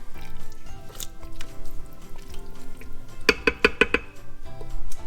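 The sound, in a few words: stirring lasagna soup in a pot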